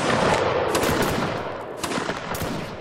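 A dense, crackling musket volley fired by a line of soldiers in a line-battle video game, many shots overlapping into a rolling roar that fades slightly, with no talking.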